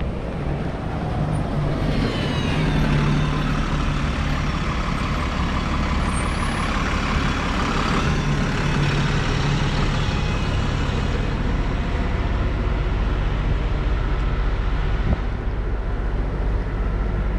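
A bus drives past in an open area with no sidewalks near a mall. A heavy engine rumble and road noise swell and fade over several seconds, with a hiss that resembles air brakes.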